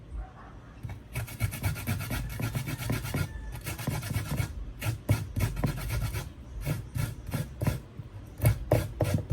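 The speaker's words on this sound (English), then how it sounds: "I'm going to grate a little ginger to it." Fresh ginger scraped against a kitchen grater, a series of rhythmic rasping strokes that come close and fairly loud with short pauses between them, and no talking.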